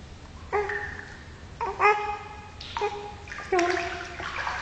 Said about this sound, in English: Kick your legs. Go on, splash for Daddy.